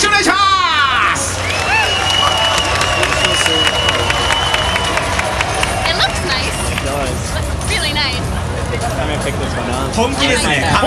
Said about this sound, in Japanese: さあ拍手お願いします。